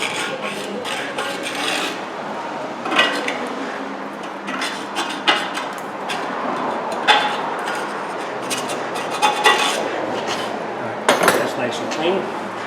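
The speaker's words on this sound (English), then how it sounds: "we are going to clean out this groove right here where our snap ring is going to go back in" A metal snap ring groove on a wheel hub from a 2010 Honda Accord being scraped clean, giving repeated short gritty metallic scrapes and clinks in uneven strokes, close up, with no one talking.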